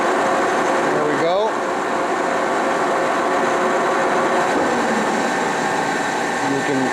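A 60-inch Webster & Bennett vertical turning and boring machine runs its spindle at high speed, 83 RPM. A loud, steady mechanical drone continues throughout, with a brief rising whine early on.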